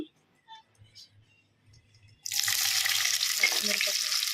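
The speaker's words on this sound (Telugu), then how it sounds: "అదే ఆయిల్లో నేను ఇప్పుడు ఉల్లిపాయలు వేస్తున్నా" Onions dropped into hot oil for paneer matar curry burst into a loud, close sizzle after a quiet start with a few faint sounds, then keep hissing steadily.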